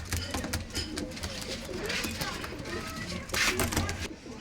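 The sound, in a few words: pigeons cooing in a loft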